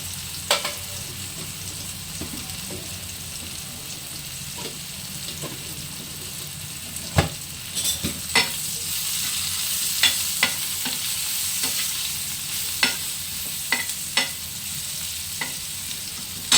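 Onion sautéing in a pan while being stirred; a steady sizzle runs throughout, broken by occasional sharp scrapes and clicks of the spatula, with no talking.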